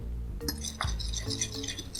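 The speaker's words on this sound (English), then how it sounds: "Simply whisk it with a fork." A fork whisking cornstarch into milk in a small bowl or glass: quick, light metallic clinks and taps in an irregular rhythm, close up and fairly quiet.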